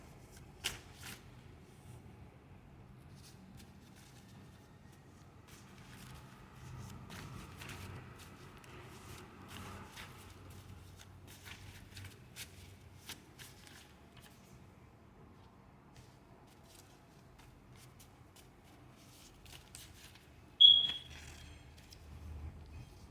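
Tarot cards being shuffled in quiet, faint soft riffles and light ticks spread across a long stretch, with a brief sharp high chirp near the end.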